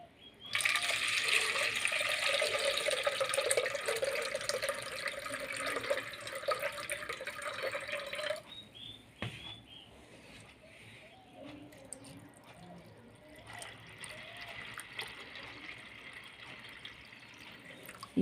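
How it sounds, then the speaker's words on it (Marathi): Moong dal is washed under running water in a kitchen. A steady splashing pour runs for about eight seconds, then gives way to quieter trickling and light sloshing with faint clinks. "परत याच पाण्याने आपण डाळ धुवू शकतो"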